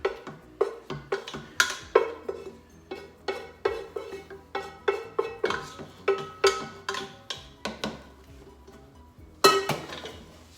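A spoon stirs pasta in a pot for mac and cheese, giving a steady run of close, sharp clinks and scrapes against the pot at a quick, even rhythm, with a louder cluster near the end and no voices.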